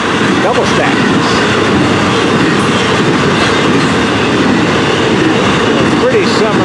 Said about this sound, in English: Intermodal. Big stacks, double stacks.